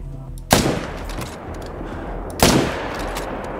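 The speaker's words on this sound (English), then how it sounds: "I'm gonna shoot it." Two loud, booming rifle shots fired while hunting in the video game Call of the Wild, each with a sharp crack and a long rumbling decay, about two seconds apart.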